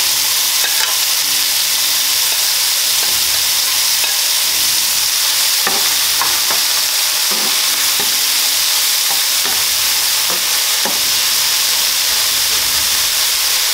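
Veggie chunks frying in extra virgin olive oil make a loud, steady, close sizzle and hiss with occasional scrapes of stirring, and no one speaks.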